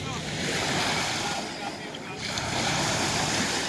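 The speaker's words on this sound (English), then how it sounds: "So here we are on Dubai Beach." Waves wash steadily onto Dubai Beach, with continuous surf and wind noise close to the microphone and no clear speech.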